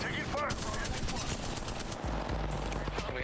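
Rapid automatic gunfire bursts from the Apex Legends battle royale video game, loud and close, with overlapping shots and impacts during a ranked match.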